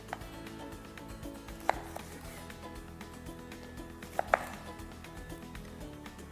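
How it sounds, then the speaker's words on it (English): A knife cuts a lemon in half on a board, with two sharp chopping knocks standing out over quiet kitchen background and no talk. "I'm gonna cut my lemon into half."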